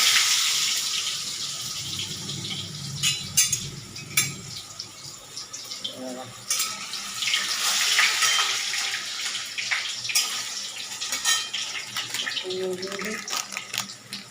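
Potatoes drop into a pan and start cooking in a home kitchen, giving a watery, sizzling wash with scattered clatter of utensils and a pan. It runs steadily throughout, close and moderately loud, with occasional speech over it.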